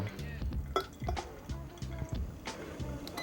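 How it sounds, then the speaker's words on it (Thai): Hario V60 coffee dripper swirled a few times mid-brew during pour-over coffee making, giving quiet, close liquid sloshes and light clinks in a repeating rhythm. "ให้เขย่าวนดิปเปอร์2-3 ครั้ง"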